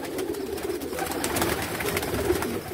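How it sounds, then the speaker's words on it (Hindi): Caged pigeons, kept in pairs, coo softly and repeatedly, close by, with a rustling, enclosed background and no talking. "ये जोड़ों में कबूतरों को डालते हैं"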